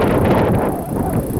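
Strong wind buffeting the microphone beside a pond where a model tugboat is sailed, a loud, continuous low rumble with gusty swells and no voices.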